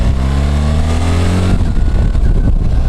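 BMW adventure motorcycle engine while riding, a steady harmonic drone that drops off as the throttle closes, then a rougher, coarser engine rumble with wind noise at close range.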